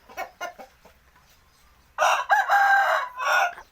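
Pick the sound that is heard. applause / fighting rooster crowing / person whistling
fighting rooster crowing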